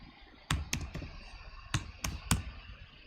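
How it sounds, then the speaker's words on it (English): Keyboard typing at a desk setup, heard as a few scattered key clicks and short bursts in a quiet room, fairly close and with no talking. "You hear me typing away"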